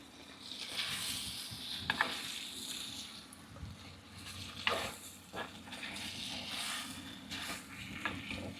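Drumstick pieces and potato sautéing in a pan with softened tomato, a low steady sizzle with several scraping stirs, fairly quiet and close.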